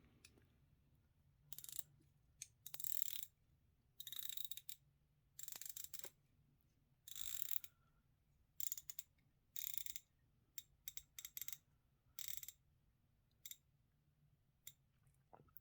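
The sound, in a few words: watch bezel rotating with ratchet clicks, Thorn GMT dive watch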